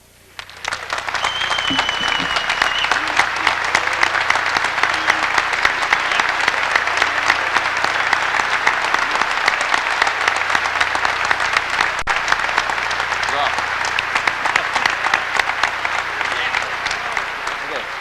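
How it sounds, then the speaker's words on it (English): Thousands of people at a 1989 quartet finals applaud in a long, loud standing ovation, with dense, continuous clapping and some cheering that stays steady for the whole stretch. "I will ask you to join me in a rousing round of applause, and please stand"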